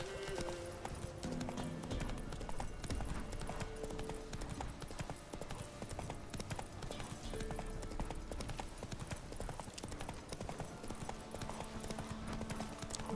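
Roach, a horse in The Witcher 3 video game, trots with a steady, rapid clip-clop of hooves that runs throughout, with game sound effects in the background.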